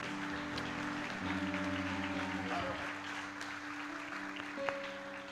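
Fairly soft applause from a church audience for a pastor's guests, a steady low patter of clapping with a sustained musical tone beneath it.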